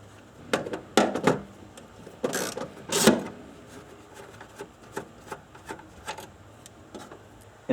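Hand ratchet turning out 10mm bolts inside a Nissan Maxima trunk during a power antenna replacement, close clicking and ratcheting strokes in uneven bursts with scraping handling noises, no talk.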